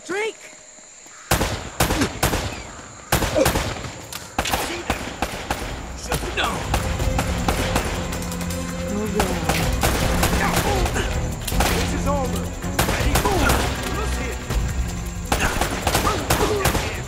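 Gunfire in the video game Uncharted: Drake's Fortune, sharp repeated shots and bursts scattered across a loud, busy game soundscape with rumbling action noise throughout.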